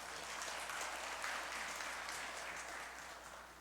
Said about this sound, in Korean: 우리 힘찬 박수로 맞이하겠습니다